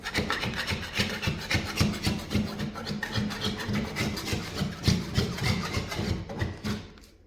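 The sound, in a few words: putty knife scraping off soaked wallpaper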